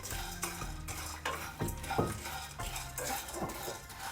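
Roasted peanuts tipped into a pan with sesame seeds and stirred with a utensil, giving a run of close scraping and rattling clatters in an irregular rhythm, fairly quiet, no voices.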